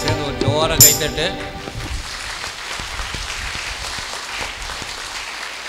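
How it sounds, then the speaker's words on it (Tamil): Church congregation clapping together at a feast-day Mass, a loud burst of applause that swells in the first second and then carries on as a steadier, fainter patter of hands. "மாதாக்கெல்லாம் சேர்ந்து ஒரு ஜோர கைத்தட்டு"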